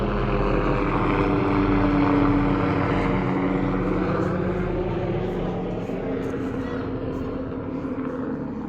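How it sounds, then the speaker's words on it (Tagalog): A helicopter flying overhead outdoors in Las Vegas gives a steady, loud engine and rotor drone that fills the whole stretch without easing off. "Ang helicopter."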